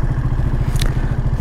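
A 125cc motorcycle riding along country roads, its engine thrumming in a steady rapid low pulse close to the microphone, with a brief rattle or clack partway through.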